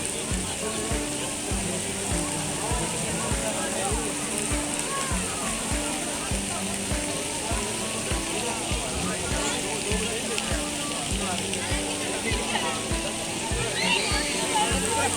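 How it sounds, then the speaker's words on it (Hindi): A park fountain at a spring festival in Jilani Park, Lahore, splashes with a steady, continuous rush of falling water that runs beneath prominent nearby talking throughout. "एक जो पानी के फुव्वारे जो आ रहे थे ना, बहुत अच्छी लुक आ रही थी"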